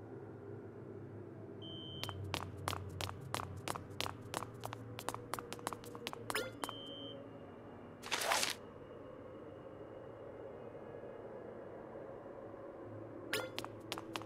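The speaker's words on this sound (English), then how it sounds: "A phone call?" Phone ringing in the dark JRPG video game Monark, sounding as a run of sharp, rapid electronic beeps with a brief louder burst partway through and a short final trill, all fairly faint.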